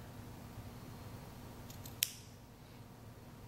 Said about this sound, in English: I'll go ahead and cut half of that right down the center.